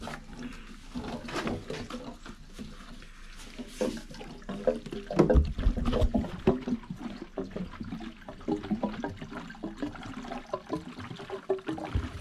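Fuel poured into the tank of a long-neglected Mitsubishi Evo 6, an irregular gurgling, sloshing pour of liquid close by that swells and eases over several seconds.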